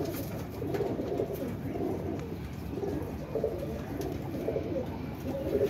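Pigeons coo steadily in a loft where a female pigeon was caught, their low rolling calls repeating in soft overlapping phrases close by, with no talk over them.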